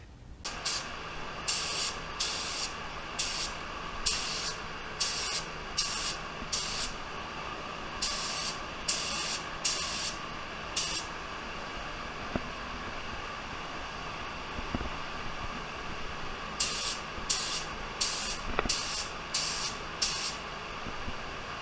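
Spray gun applying black automotive paint over a car panel for a metallic blend, a steady hiss broken into regular short bursts as the trigger is pulled repeatedly, sustained close-up spraying with a brief pause mid-way.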